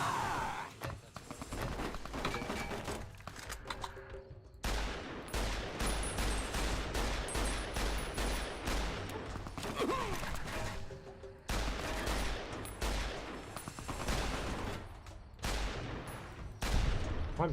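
Gunfire rattles in Fallout: New Vegas in rapid bursts and single cracks, with a few pauses and a steady low rumble underneath; the shots sound close and fairly loud.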